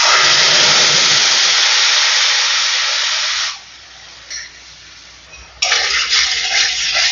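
Ground spice paste for dhokar dalna hits hot oil with a loud, broad hissing sizzle that fades after a few seconds. A fresh burst of sizzling flares up again toward the end.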